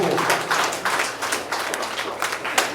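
Steady rapid hand claps repeat in an even rhythm, close and fairly loud, with no voices over them.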